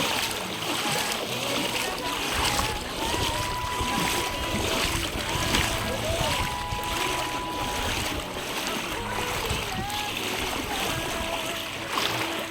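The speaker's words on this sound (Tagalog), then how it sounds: "Lakaran naman tayo sa tubig." Footsteps wade through floodwater in the Philippines, with continuous sloshing and splashing that stays fairly loud and steady, and faint voices in the background.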